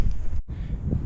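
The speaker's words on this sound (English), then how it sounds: "getting kind of windy here" Low, blustery wind noise buffets the microphone, with a brief dropout in the middle before the rumbling gusts resume.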